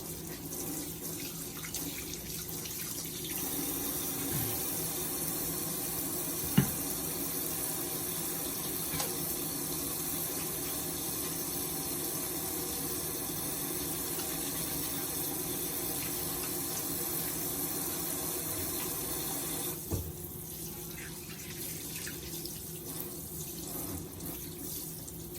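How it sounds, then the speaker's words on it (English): Hands are washed under a running kitchen tap while a homemade chicken sandwich is being prepared, a steady close splash of water that runs without a break, with a few soft clinks and knocks from the sink. "Wash your hands."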